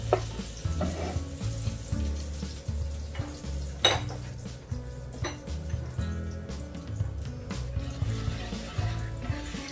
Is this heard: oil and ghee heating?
yes